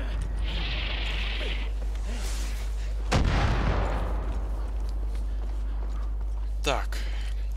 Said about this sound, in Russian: Мне надо добраться до миномета. Чтоб меня не взрывали.